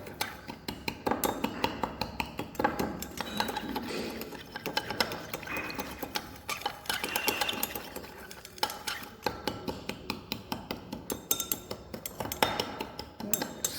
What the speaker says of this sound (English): Add water in small amount, slowly mixing